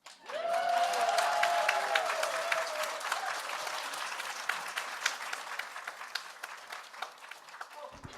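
A crowd at a dialogue session on healing bursts into loud applause and cheering, with whoops rising at the start before settling into sustained clapping that slowly thins out.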